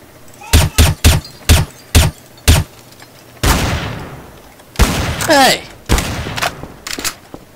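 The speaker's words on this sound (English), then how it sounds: "Somebody's shooting at me." Gunfire in the Garry's Mod DarkRP game: seven sharp, close shots in a fairly even rhythm, then a pause and a heavier burst of louder blasts, with a voice shouting over the last shots.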